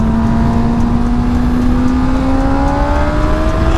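Naked motorcycle engine pulling hard under acceleration, a loud continuous whine whose pitch climbs steadily and smoothly over a few seconds with rushing wind noise underneath.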